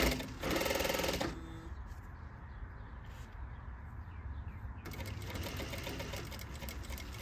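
A sewing machine stitches a pocket flap in a loud steady burst near the start, then falls quiet while handling noise continues, and starts up again faintly toward the end.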